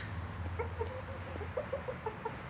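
Chickens cluck in short soft bursts while scratching and hunting grubs in the ground, a low steady hum underneath, fairly close.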